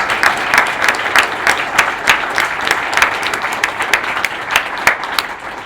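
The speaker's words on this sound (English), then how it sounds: "Will you give me a massive applause for Anna?" An audience at a tech meetup applauds a speaker, with steady clapping from a crowd running the whole time and no voices over it.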